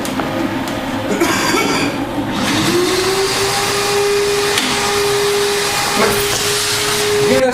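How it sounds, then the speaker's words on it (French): A vacuum cleaner sucks up crystallization residue from a marble floor, its motor whining loud and close, with a steady tone rising in pitch partway through as the nozzle moves across the stone. "on va aspirer le résidu"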